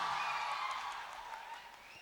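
A Hindi-speaking audience at a public speech gives a hall-wide burst of applause to honour a guest, a dense, steady wash of many hands that slowly fades over about two seconds with no voices on top.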